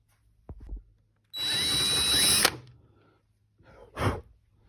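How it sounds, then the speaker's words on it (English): A 23 mm Forstner bit drills a hole in wood for a wedding arbor, a loud, close whine lasting about a second, framed by brief handling knocks and a shorter burst of noise afterward. "I'm using 5/16 bolts for these holes, so I'm using a 23 mil Forstner"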